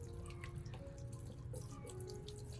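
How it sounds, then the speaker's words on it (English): Tap water runs steadily over an orchid plant as it is rinsed, a continuous close splashing and trickling with no talk. "Now, I'll rinse the entire plant under running water."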